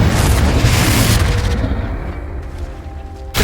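A loud booming spell explosion in the Hogwarts Legacy video game, a dense rumbling blast that fills the clip and decays, then a fresh burst at the end.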